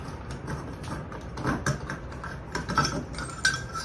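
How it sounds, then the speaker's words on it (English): A wing nut being unscrewed to remove the housing of an Artika LED ceiling light fixture, heard as faint, irregular close-up metallic clicks, scrapes and small rattles of handling, with no talk. "I've got a wing nut here. I'm just going to take this off to take off the housing"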